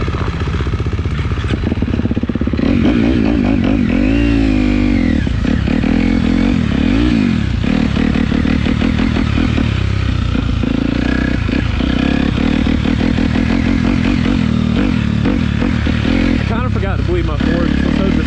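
A motocross bike engine runs steadily and loudly throughout, with a continuous rough drone and some revving variation, and metallic clatter close by.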